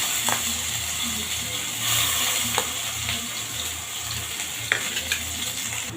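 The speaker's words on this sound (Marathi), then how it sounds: "सर्व मसाला आपण तेलामध्ये छान परतून घेऊ" Whole spices and masala fry in oil in a wok for a panvada rassa bhaji, giving a steady close sizzle broken by a few sharp clinks of a spoon against the pan.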